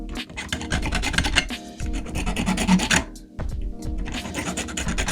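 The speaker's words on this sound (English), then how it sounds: "start by making a pass on the top side of each fan blade and really just shaving each blade to a point" A hand file rasps over plastic CPU fan blades to sharpen them, with close, scratchy back-and-forth strokes in uneven bursts and short pauses between passes.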